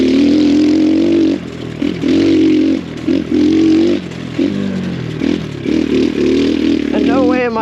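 X Pro Storm 150 DLX dual sport motorcycle on a dirt trail at about 20 to 25 mph, its small engine droning and rising and dipping in pitch with throttle changes, loud and close.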